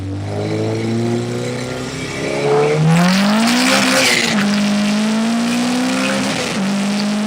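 A Honda CRX with a K20A2 engine accelerates hard and loud, its engine note climbing steadily in pitch, easing briefly, then rising again close to the listener.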